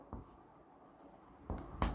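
A pen scratches across paper while a maths solution is written out, making a few short quiet strokes, one near the start and two close together toward the end, against a soft background hiss.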